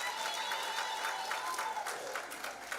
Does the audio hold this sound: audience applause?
yes